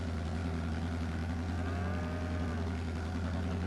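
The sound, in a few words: cows mooing in Farming Simulator 22 video game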